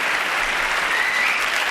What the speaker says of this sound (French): Et applaudissements.